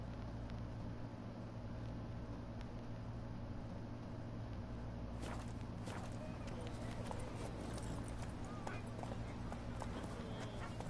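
Roach the horse gallops in a PS4 video game, with steady hoof clip-clop over a constant music and ambience bed and a brief flurry of game effects partway through.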